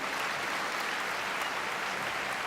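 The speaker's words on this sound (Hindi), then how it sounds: "वाह तालियां हो जाए एक बार जोरदार।" An audience at a Hindi kavi sammelan poetry recital breaks into steady, dense applause, loud and continuous throughout with no voices on top.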